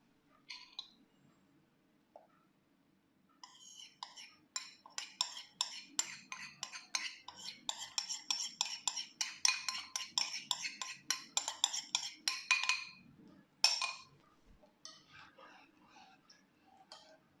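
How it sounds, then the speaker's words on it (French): Vanilla vegan dessert cream on the stove: dissolved cornstarch or arrowroot is stirred into boiling plant milk, a spoon or whisk ticking and scraping rapidly against the pot in a steady close rhythm, with brief pauses and no talk. "c'est le moment de mélanger votre maïzena ou arrowroot délayé"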